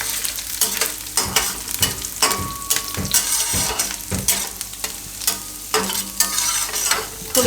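Whole spices (a piece of cinnamon, two torn bay leaves and a few red chilli pieces) are stirred in hot oil, giving a loud, close crackling sizzle with frequent scraping strokes of a spoon against the pan.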